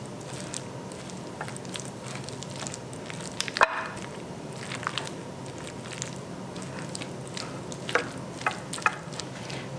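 A sushi bake filling being stirred together with Kewpie mayo in a bowl: soft, continuous wet squishing and mixing close by, with occasional sharper clicks of the utensil against the bowl.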